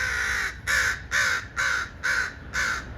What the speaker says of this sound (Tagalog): Ayan, tatlo sila guys. Lalaki nila.